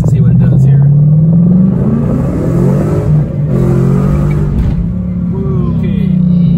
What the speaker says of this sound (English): let's give it a little gas and see what it does here.